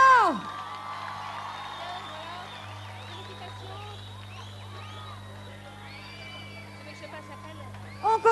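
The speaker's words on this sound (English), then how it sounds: "Allez, on les applaudit un peu plus fort." A large crowd of over 10,000 at a 1999 Platine D'Or concert at the Arènes de Carthage in Tunisia roars steadily with scattered whoops and cheers over a low, constant hum, with a few sharp bursts near the end.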